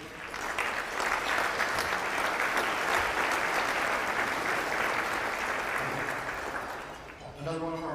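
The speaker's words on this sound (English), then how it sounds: "give you a round of applause for your work" An audience applauds at the Bexar County State of the County address, a sustained wash of clapping from a large crowd that fades near the end as a voice resumes speaking.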